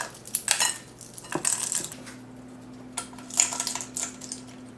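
Pistachios in their shells scattered onto a charcuterie board, a few quick bursts of light clicking and clattering, clustered near the start and again mid-clip, fairly close with quiet gaps between.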